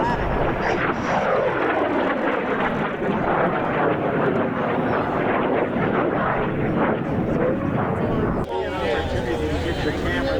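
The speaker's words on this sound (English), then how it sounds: "Get your cameras on the MiG-17." A Mikoyan-Gurevich MiG-17 jet flying at an air show demonstration, a loud continuous roar with a sweeping, shifting tone, steady throughout with a brief change near the end, crowd and voices faintly mixed in.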